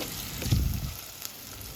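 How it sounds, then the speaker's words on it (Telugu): Chopped onion, tomato and salt fry in a pan for a village-style mutton liver and fenugreek dish, giving a soft, steady close sizzle with a brief louder burst midway and no talk. "ఉల్లిపాయ వేగుతూ ఉండగా ఒక టమాటా వేసుకున్నాను"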